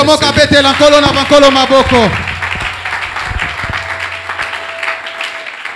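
Church congregation at a Sunday service acclaiming the Lord, a loud burst of applause and cheering that follows a sung or shouted voice, then fades into scattered claps and murmuring.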